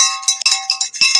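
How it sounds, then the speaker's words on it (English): A small handheld bell rung repeatedly in quick, bright jangling bursts, close and loud, with no talk over it. "Could you please put that bell away?"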